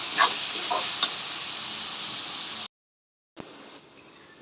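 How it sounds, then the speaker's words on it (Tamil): Tomatoes softening in oil in a pan for a Tamil-style fish curry (meen kulambu), a steady close sizzle with a few soft stirring clicks, cut by a sudden stretch of silence before the frying hiss returns more quietly. "என்னோட தக்காளி நல்லா வதங்கிடுச்சு இன்னும் கொஞ்சம் நல்லா வதங்கட்டும்"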